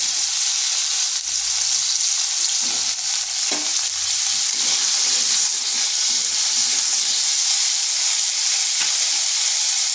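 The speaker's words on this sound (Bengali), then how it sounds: "কড়াইতে আরেক চামচ তেল দিয়েছি। এরপর দিয়ে দিচ্ছি আলুগুলো।" Diced potatoes fry in oil in a wok with a steady, loud, hissing sizzle that runs throughout, along with faint stirring scrapes.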